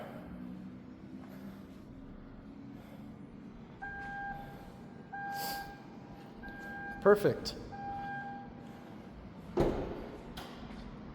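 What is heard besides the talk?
BMW X3 M50 power tailgate closing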